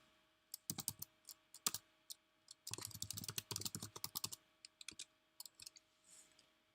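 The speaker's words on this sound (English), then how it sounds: "I'll just type the email here for the reference." Keys on a computer keyboard are typed in quick, close bursts of clicks with short pauses between, steady and fairly quiet, with no talking.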